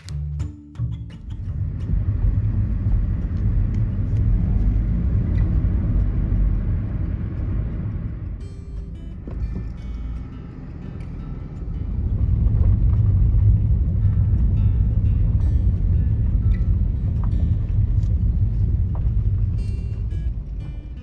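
A pickup truck driving with a load of large hosta plants in the back, a steady low engine and road rumble inside the cab that dips briefly midway then swells again, no talking.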